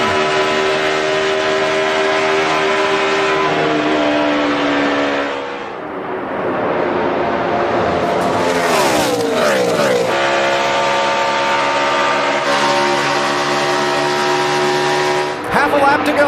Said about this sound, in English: Greg Biffle wins the Samsung Mobile 500. Last lap at Michigan.